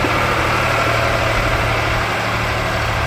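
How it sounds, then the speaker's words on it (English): A tractor engine runs in a steady, loud low rumble ahead of farm loading, a continuous droning idle with no pauses and no voices over it. "And you hear the tractor coming,"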